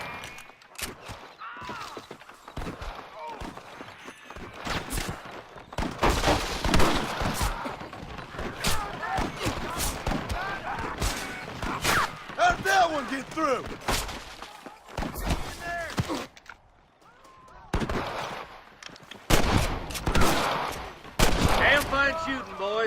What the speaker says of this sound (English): Damn fine shooting, boys.